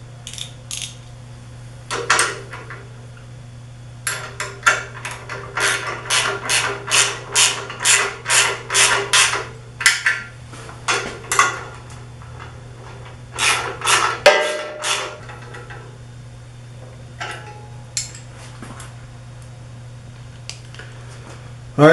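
Wrench ratcheting while tightening 1/2-inch and 7/16-inch bolts on the pallet arm of a Ranar Elite E-6400 six-color, four-station printing press: bursts of rapid close clicks, pausing between runs, over a steady low hum.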